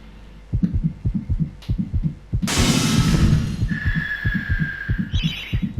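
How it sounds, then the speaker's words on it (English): A steady, loud heartbeat from the MediEvil video game thumps in a regular double-beat rhythm throughout, briefly overlaid by a burst of noisy game effects and a high tone. "I hate the sound of a fucking heartbeat"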